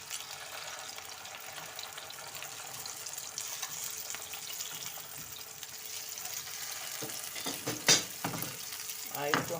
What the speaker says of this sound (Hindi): हमारी टिक्कियाँ तली जा रही हैं।